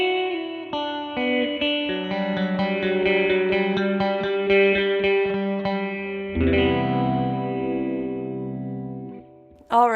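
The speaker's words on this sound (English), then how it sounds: "We're going to set this to low, which is where we're going to find those bubbly, phasery tremolo sounds" Electric guitar through a ring modulator pedal on its low range, giving a bubbly, phasery tremolo that chops sustained notes and chords into rapid pulses, loud and close with no talking.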